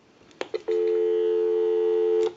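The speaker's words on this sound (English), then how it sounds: "So we'll go ahead and give you some dial tone," A few clicks, then a steady telephone dial tone hums evenly for under two seconds before cutting off with another click, on a Western Electric 302 rotary desk telephone.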